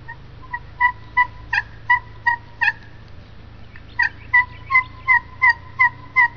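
A hand-held turkey call imitates a gobble in two bursts of rapid, rattling yelps, roughly eight evenly spaced notes, a pause, then about seven more, close and fairly loud over a low background hum.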